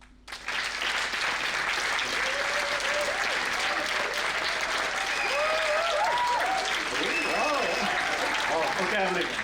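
A TEDx audience in Lausanne breaks into warm applause to welcome the next speaker, rising quickly into a broad, sustained wash of clapping with some cheering voices mixed in.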